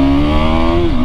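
A KTM 390 Adventure single-cylinder motorcycle engine drones loud and close on a right-hand hairpin bend, with a steady buzzing note that dips slightly near the end.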